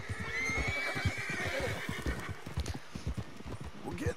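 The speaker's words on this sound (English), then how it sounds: "Oh, wild horses!" Hooves clatter in a fast, steady galloping rhythm while a horse whinnies with a long high call over it, wild horses in the video game Red Dead Redemption 2.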